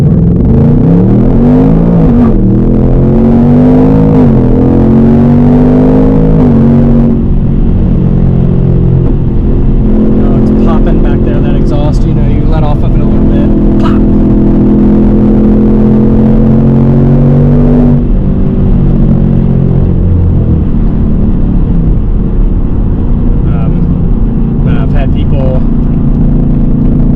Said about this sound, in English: Stoplight want me to rev, so it sounds good from the outside, just sitting still.